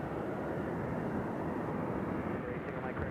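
An airplane takes off from runway 2 left at Nashville International Airport. A steady, broad jet roar holds evenly throughout and sounds somewhat distant.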